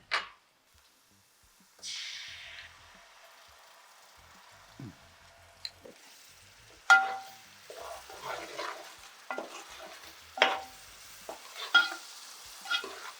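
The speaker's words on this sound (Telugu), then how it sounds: "కొంచెం అల్లం వెల్లుల్లి పేస్ట్ మాత్రం వేసుకుందాం" Ginger garlic paste frying in a pan for chicken gongura, a faint sizzle that turns into a series of stirring scrapes and spoon knocks, heard close with quiet gaps between strokes.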